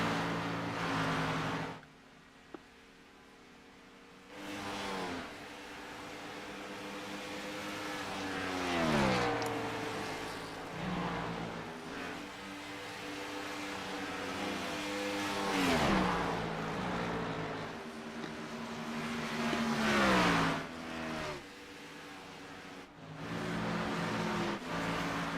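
Race cars lapping at Kansas, engines swelling and fading as several cars pass by in repeated waves, some loud and near, some farther off, with falling pitch as each one goes past.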